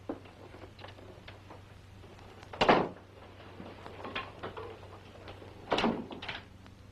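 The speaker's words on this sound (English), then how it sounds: "You locked my door." Two separate thuds of a door being shut and locked, one near the middle and another toward the end, against a quiet room hum with faint background movement.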